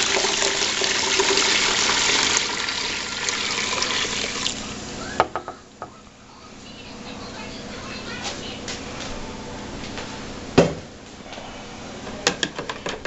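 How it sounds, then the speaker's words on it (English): Sugar water is strained over cinnamon sticks for homemade cinnamon wine, a steady pouring trickle that gives way to quieter scattered dripping and a few clinks, with a person talking at times. "I'm just going to go ahead and strain our sugar water over the cinnamon sticks"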